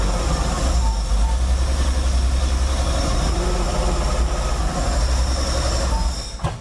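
A 1977 Porsche 911S Targa engine runs with a loud, steady, dense rumble that holds evenly throughout before cutting off abruptly at the end, with no talking.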